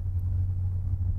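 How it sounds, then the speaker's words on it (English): Low, steady exhaust rumble from a 1956 Ford F100 restomod pickup idling, a continuous deep throb heard close and alone without talk. "it's got just a little bit of rumble to the exhaust"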